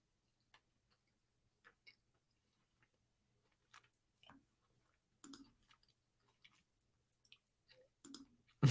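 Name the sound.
person chewing food close to a Blue Yeti microphone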